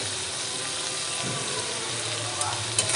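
Chicken sizzles in a pan with salt and turmeric, a steady close frying hiss throughout, with a few small clicks near the end.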